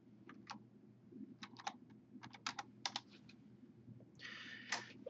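Keys clatter on a computer keyboard in short bursts of close, crisp typing, with brief pauses between clusters of strokes and a steady low hum underneath.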